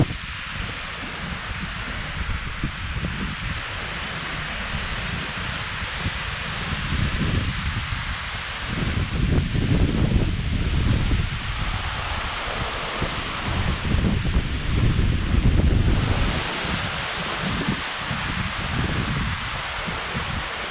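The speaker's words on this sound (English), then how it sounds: "And it's starting to rain, it's windy, it's cloudy." Steady gusting wind roars across the microphone at a dam near a reservoir spillway as rain starts under cloudy skies, a dense rushing noise that swells and eases in waves, with no voices.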